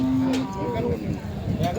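Cattle moo at a Thai cattle market, with a few drawn-out lowing calls over busy background chatter and crowd noise.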